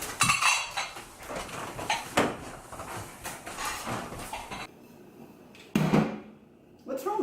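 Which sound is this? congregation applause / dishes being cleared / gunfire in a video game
dishes being cleared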